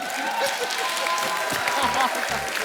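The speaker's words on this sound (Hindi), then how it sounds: "जोरदार ताली हो जाए।" A studio audience at a television comedy show claps at close range, a dense burst of applause mixed with a voice talking over it.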